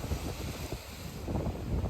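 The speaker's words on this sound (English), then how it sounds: "you can see it's quite a heavy sea there" Rough, heavy sea pounding the Cornish coastline, heard as a dense wash of surf blended with gusty wind rumble on the microphone, constant and fairly loud across the short stretch.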